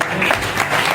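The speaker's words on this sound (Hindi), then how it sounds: "बट ये ताली बजाने वाली बात क्या थी?" Brief burst of crowd applause, dense and steady, playing from a clip without a gap.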